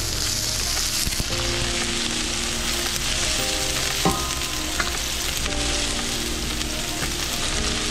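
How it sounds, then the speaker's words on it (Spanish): Garlic and onion sizzle steadily in a pan, browning for a shrimp and white perch broth, with a dense continuous fry and occasional clicks of stirring, close and fairly loud, no talking. "agregamos el ajo y la cebolla primero. Ahí lo vamos a dorar aquí,"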